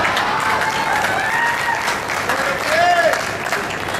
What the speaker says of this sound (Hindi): आप देखो तालियां बजानी है,